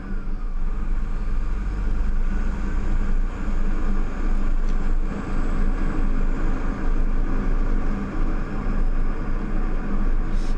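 A B-double truck drives on, its engine holding a steady, loud, broadband roar with low rumble throughout, heard from the cab with no talking.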